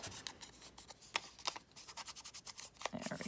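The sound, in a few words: scissors snipping paper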